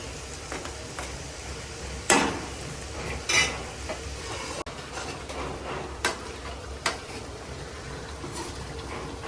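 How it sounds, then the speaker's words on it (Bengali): Magur catfish cooking in a thick spiced gravy, with soft steady simmering and frying noise and a few sharp clinks of a utensil against the pan. "এই কষানো ঝোলের ভিতর মাগুর মাছ ফেলে দেওয়া হবে এটা সহ কষবে"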